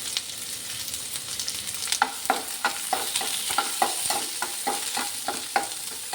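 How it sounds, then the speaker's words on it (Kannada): Onions and green chilies frying in hot coconut oil, a steady bright sizzle broken by a regular run of scraping stirs in the pan, close and with no talk. "ಎಣ್ಣೆ ಕಾದ ಮೇಲೆ ಈರುಳ್ಳಿ, ಹಸಿಮೆಣಸಿನಕಾಯಿ ಹಾಕೋಣ."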